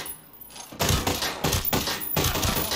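Rifle fire in the video game Ghost Recon Breakpoint, with several loud, close, sharp reports and a rattling burst of gunfire, no talking.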